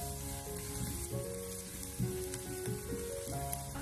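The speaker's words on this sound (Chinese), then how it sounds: "下切好的小料、姜蒜还有小米辣，先开小火将它慢慢的翻炒一下" Ginger, garlic and chili being stir-fried in a wok over low heat, a steady sizzle with occasional scraping stirs and clinks, continuous and close, with a faint tonal hum in the background.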